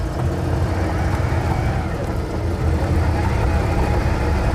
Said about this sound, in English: It's just a bit of an electric noise and then suddenly the engine's running.